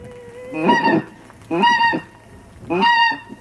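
Three loud honking pink-footed goose calls, each a short harsh burst separated by brief pauses, fairly close and with no talking.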